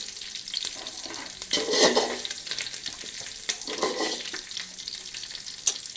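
Whole spices frying in hot oil for chicken biryani, a continuous close crackling sizzle with a few swells and stirring scrapes, and no talking.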